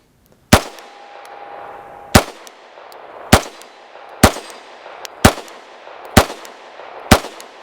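A Sig P365 pistol fitted with a JTT barrel fires seven sharp, loud shots at an uneven pace, roughly one per second, each crack followed by a brief ring-out, with no talking.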